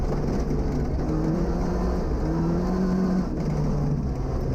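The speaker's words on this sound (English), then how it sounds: "Seeing the squat stance Datsun P510 performing so well with Jody van Zumeren behind the wheel" A Datsun P510 rally car at a national rally stage, its engine droning loud and steady with rising and falling revs, heard alone without talk.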